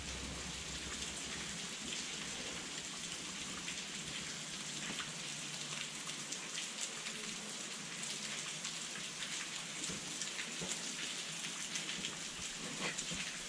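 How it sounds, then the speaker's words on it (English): Rain or water drips steadily at a natural rock bridge cave, a dense continuous patter and hiss with scattered sharper drops, moderately faint and steady throughout, with no voices. "Oh, it's a little wet. I'm getting rained on."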